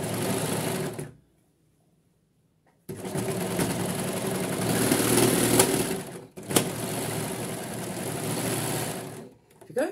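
An electric sewing machine stitches a blouse with lace and embroidery, running in a short burst, pausing for about two seconds, then whirring steadily and close for a longer stretch before stopping again.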